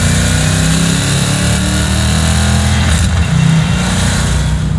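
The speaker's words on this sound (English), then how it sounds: "I like the little pops you get in between shifts." A 755-horsepower LT5-powered 1967 Chevrolet Camaro restomod roars loud and close with a continuous, deep engine drone, briefly dipping and changing pitch around a gear change partway through.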